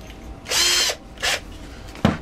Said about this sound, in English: by drilling a hole through both containers